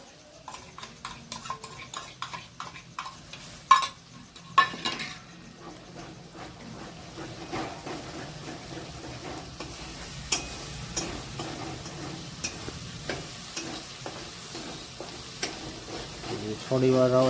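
Onion-tomato gravy for a paneer curry being stirred and fried in a pan, steady sizzling under repeated scraping and clinking of a spoon against the metal, with a few sharper knocks early on and faint talk in the background.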